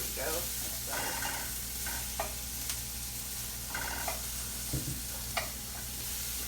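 Onions frying in a pan until translucent, a steady close sizzle with bursts of stirring and a few scraping knocks against the pan, with no one talking.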